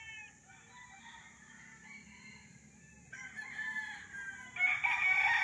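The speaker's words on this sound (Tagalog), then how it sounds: "Meron nga lang pong mga manok." Chickens on a one-hectare flat farm lot: a rooster crows repeatedly, growing louder and nearer toward the end, over faint clucking and a soft background voice.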